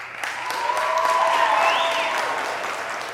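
Steady applause from a college audience at a comedy hypnotist show, broad, even clapping that swells slightly and holds throughout, with a faint tonal whine running underneath.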